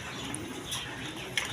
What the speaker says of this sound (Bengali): দেখেন এখানে এক পেয়ার কবুতর আছে, শার্টিং কবুতর